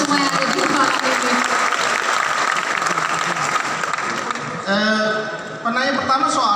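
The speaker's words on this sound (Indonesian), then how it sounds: "Jadi tepuk tangan dulu buat kita semua yang ada di ruangan ini" A roomful of people at a Rakornas XIV KMHDI meeting in Palangka Raya clap loudly and continuously, thinning near the end as a voice begins talking over the fading applause.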